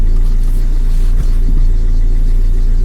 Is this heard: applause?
no